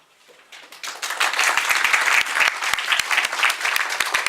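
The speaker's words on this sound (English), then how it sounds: "Let's give a louder round of applause for Larry." An audience breaks into applause for Larry, starting faintly and quickly building into dense, sustained clapping from a nearby crowd with sharp individual claps standing out.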